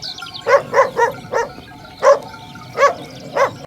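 A dog barks about eight times in short bursts, spaced unevenly, fairly close and clear with no other sounds.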